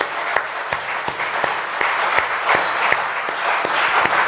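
A church congregation claps together in steady, continuous applause, with dense overlapping claps that stay fairly loud throughout.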